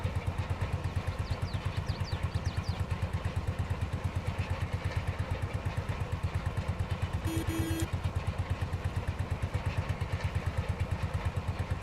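A tractor engine in Farming Simulator 22 idles with a steady, rapid low chugging pulse that runs evenly throughout, with a brief electronic tone partway through.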